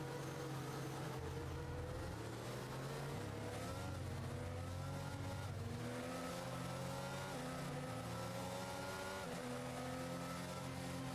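Car engines in a racing video game drone and rev steadily, with shifting engine pitches layered together, faint and low in level throughout with no talking.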